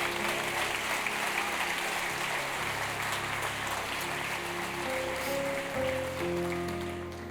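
A church congregation claps steadily and loudly at a Christian worship service, a dense wash of applause filling the whole stretch with faint voices mixed in and musical tones emerging toward the end.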